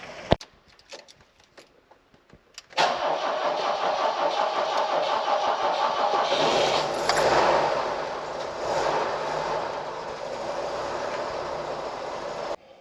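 A 1976 BMW 2002 engine cranks over after a few faint clicks, then catches and settles into a steady, close idle that swells briefly as it revs before continuing to run evenly with no talking.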